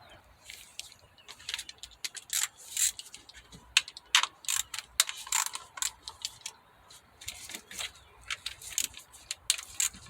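A ratchet with an 8mm deep socket backs out small valve cover screws on a four-cylinder Mazda6, giving quick bursts of close, crisp clicking separated by short pauses.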